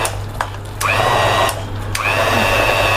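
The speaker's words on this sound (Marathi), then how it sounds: "आपण छान असं हे मिक्सर बारीक करून घेतोय." A mixer grinder blends a pav bhaji mixture, its motor whirring up in two loud bursts with rising pitch and a steady grinding drone between them, heard close with no voices.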